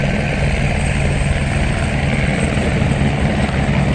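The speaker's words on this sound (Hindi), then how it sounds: "ये देखो आप दो हेलीकॉप्टर एक साथ उड़ते हुए" Two helicopters flying together and coming in to land at Panchtarni, a mountain helipad, giving a steady loud rotor and engine drone throughout with no talk over it.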